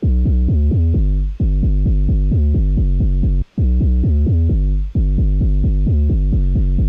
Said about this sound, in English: a very basic sub, and we're modulating the coarse pitch.